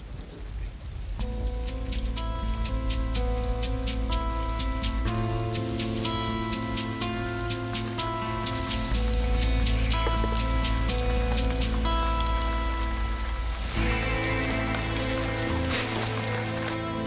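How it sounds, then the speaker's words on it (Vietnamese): Heavy rain pours steadily in a dense, continuous hiss on surfaces throughout, loud and close, with a faint tonal music bed underneath and no talking. "mưa lớn như vậy"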